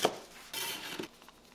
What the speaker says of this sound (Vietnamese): Nấm mèo thì mình ngâm nở, rửa sạch, sau đó cắt nhỏ như thế này ha.